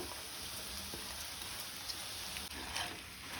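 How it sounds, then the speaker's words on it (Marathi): Soaked rice tipped into a pan of vegetables for soya chunk pulao, giving a steady close sizzle with a few soft clinks and no voices. "भिजत घालून दवरलेले तांदूळ घालुया।"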